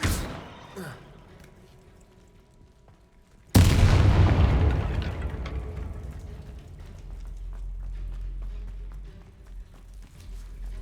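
A Bombarda blasting spell goes off in Hogwarts Legacy with a sudden deep boom that rolls into a long, rumbling decay. A voice first calls the spell name against a quiet background.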